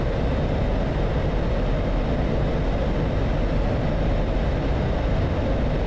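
An F-16C fighter jet engine roaring on takeoff in the DCS World flight game, with the afterburner lit: a steady, loud, broadband rumble that holds unchanged throughout without pause.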